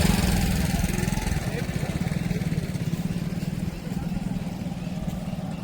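Motorcycles and other vehicles cross a pontoon bridge over the Ganga at Mahakumbh. A steady, close engine drone throbs with a fast pulsing rhythm throughout, and voices are faintly audible under it.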